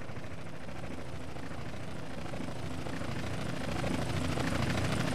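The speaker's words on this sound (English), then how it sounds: "Chopper inbound!" Helicopter rotor thudding and droning in the GTA San Andreas video game, a dense continuous roar that grows slightly louder as it approaches, with no voices.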